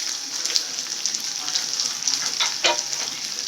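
Mint, curry leaves and onion drop into hot oil for a chicken dish. They give a steady, close sizzle with soft stirring scrapes and scattered crackles, and a voice talks faintly underneath.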